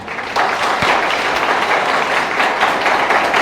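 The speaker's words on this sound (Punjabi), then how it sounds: "ਸੋ ਇਸ ਗੱਲ ਲਈ ਪਹਿਲਾਂ ਆਪਾਂ ਔਰੇਂਜ ਦੇ ਲਈ ਜ਼ਰੂਰ ਤਾੜੀ ਲਾਈਏ ਜੀ" Audience at a Punjabi school event, Orane International in Bathinda, breaks into sustained applause: dense, steady clapping that swells after a brief start and carries on loud and close throughout, with no talking.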